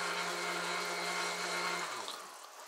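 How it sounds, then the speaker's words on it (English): A butter machine runs with a steady motorized whir and liquid churning, holding an even hum before the motor winds down near the end. "If you guys want a butter machine, man, this one's a few bucks cheaper than the magical butter machine"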